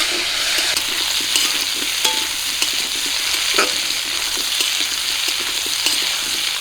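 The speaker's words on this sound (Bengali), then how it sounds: "আলু আর কচু দেখুন লাল লাল করে ভেজে নিয়েছি" Potato and taro pieces fry in hot oil with a loud, even sizzle that hisses continuously close up, with a few light clinks of stirring.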